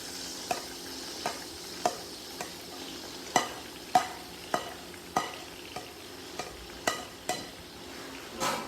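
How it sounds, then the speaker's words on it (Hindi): Onions frying in about half a litre of hot oil in a large pot for a potato and taro curry, with a steady sizzle broken by a dozen sharp scraping stir strokes at an even rhythm, close and fairly loud. "प्याज कर दें फ्राई"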